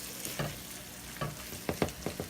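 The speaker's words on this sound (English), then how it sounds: "I've added the sausage as well as the chorizo to the ground beef. You got it simmering." Sausage, chorizo and ground beef for a keto chili cook in a pan, giving a soft steady sizzle broken by several short scraping stirs of a utensil, heard close with no talking.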